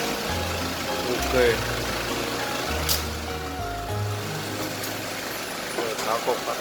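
Car engine idling steadily after a jump start at a roadside battery rescue, a low continuous hum with people talking over it throughout.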